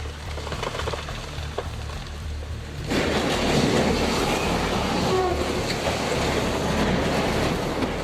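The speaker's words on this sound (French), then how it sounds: "le train a déraillé" A freight train derails, its heavy wagons rumbling and grinding along the rails in a loud, continuous roar that swells abruptly partway through, with rattling clatter and no voices.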